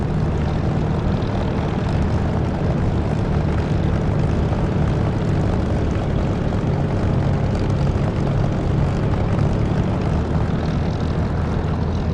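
A propeller aircraft engine drones steadily and loudly throughout a takeoff attempt in the DCS flight simulator, a continuous dense roar with no pauses and no talk.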